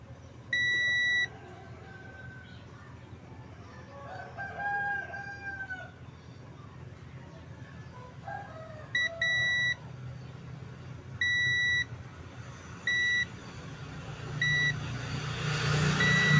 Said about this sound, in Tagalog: Tunog buzzer.